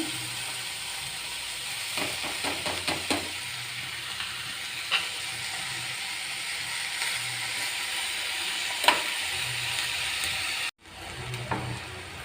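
Onion, tomato, garlic and spring onion greens saute in a pan with a steady close sizzle and repeated spatula scrapes and taps, briefly cut off near the end before resuming.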